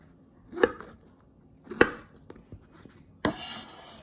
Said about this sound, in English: here's the king oyster mushroom. You're going to just cut it in half and then just start slicing